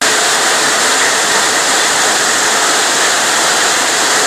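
A burst heating main gushes water in a loud, dense, unbroken roar of rushing water, close and constant throughout with no pauses, like a powerful waterfall.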